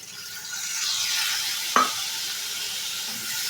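Spice paste for aloo potol dalna frying in a pan as a little water goes in, giving a steady loud sizzle with a sharp hiss burst partway through and faint stirring, no voices.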